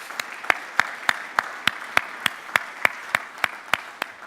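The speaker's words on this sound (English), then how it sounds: "Big round of applause for those guys." At a conference's closing remarks, clapping for the panelists and speakers comes as a sharp, evenly spaced beat of single claps, about three per second, close and crisp over a quiet background.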